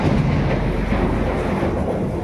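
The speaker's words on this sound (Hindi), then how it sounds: "बहुत जोर बादल बिजली कड़क रहा" Heavy rumbling thunder in a strong storm, a continuous loud low roar filling the whole clip with no voices.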